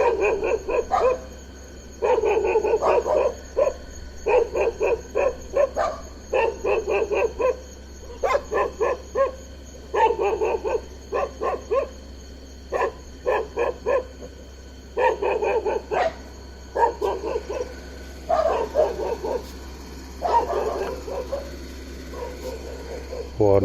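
A dog barks repeatedly at night in the dark near a leopard at a resort in Rajaji National Park, bursts of rapid barks in clusters with short pauses, fairly close and loud over a steady low hum and insect-like drone.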